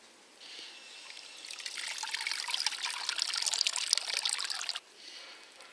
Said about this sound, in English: I'm hoping what this water will do is allow me to wash off majority of the compost, leaving nothing but roots.